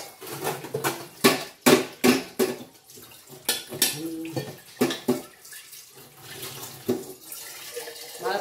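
Dishes being washed under water in a kitchen sink, with a run of sharp splashes and clatters in quick bursts, then sparser knocks and trickles, loud and close, with no talk.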